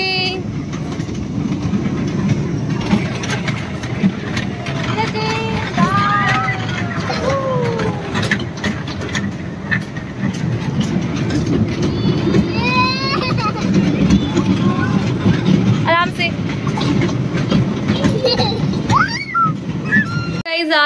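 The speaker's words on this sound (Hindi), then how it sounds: "wow train" A passing train heard from nearby, a steady rumbling roll with faint rhythmic clatter throughout, mixed with birdlike chirps and bits of speech.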